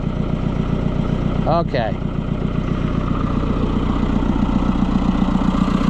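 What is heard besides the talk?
White 700 tractor engine running after being started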